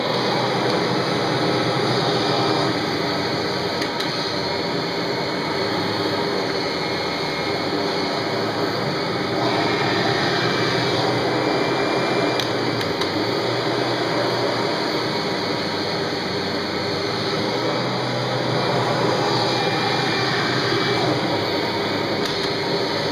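A vacuum cleaner runs on a floor sucking up spilled flour, producing a loud, continuous broadband roar with a steady whine that barely changes throughout.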